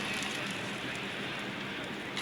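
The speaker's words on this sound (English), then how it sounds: "Rain with a Molotov in hand." A Molotov fire burning in Counter-Strike on the Dust 2 map during a pro FaZe vs Ninjas in Pyjamas grand final, a steady dense crackling hiss that holds level and close throughout with no talk.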